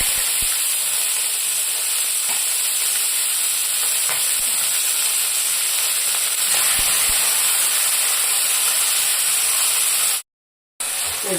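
Vegetables fry in hot oil with bay leaf, cinnamon and cloves, a loud continuous sizzle and hiss with occasional faint pops, ending in a brief cut to silence.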